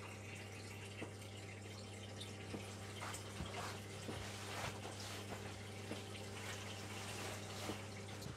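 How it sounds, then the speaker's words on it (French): Water draining out of a domestic water heater tank during maintenance: faint, steady trickling and splashing that runs without a break, over a low continuous hum, with occasional small clicks. "on voit bien que l'eau s'écoule, et on va laisser jusqu'à ce qu'il n'y ait plus d'eau"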